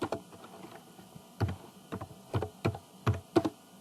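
Keystrokes on a computer keyboard while an HTML comment is typed: faint, irregular clusters of sharp clicks separated by short pauses, close by, with no talking.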